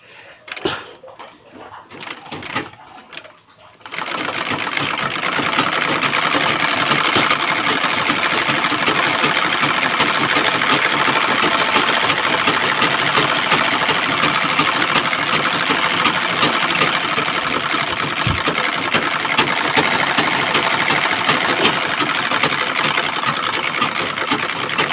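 A black domestic sewing machine fitted with a buttonholer attachment runs steadily and loudly for about twenty seconds with a fast whirring mechanical rattle, after a few seconds of quiet handling knocks at the start.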